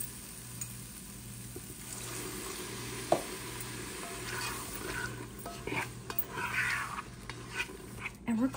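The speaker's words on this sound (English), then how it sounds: "We're then gonna add in our garlic, and we're just gonna give that a little bit of a stir." Garlic is stirred in a pot for lentil soup, with light spoon scrapes and clinks over a faint simmering sizzle, a few sharper knocks near the end.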